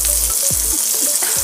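Butter melts and sizzles in a pan as the base for a creamy white sauce pasta, giving a steady, close frying hiss with small crackles and no talking.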